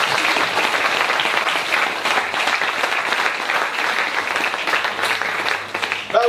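A church congregation applauds together in a sustained burst of loud, dense clapping that swells and holds for several seconds with a faint voice underneath.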